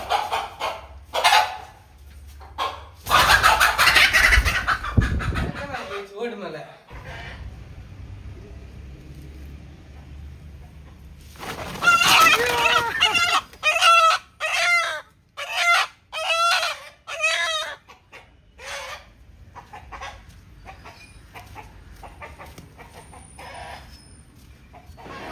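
Free-range country chickens cluck in repeated bursts close by while a rooster crows loudly, with calls spread across a rural setting and no talking.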